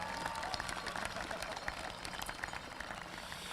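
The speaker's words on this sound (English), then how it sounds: "Help me now give them a grateful round of applause." Applause at a high school football state championship celebration, a steady patter of many hands clapping, faint and somewhat distant, continuing evenly throughout.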